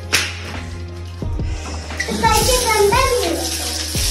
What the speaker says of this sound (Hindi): पानी सही आ रहा है।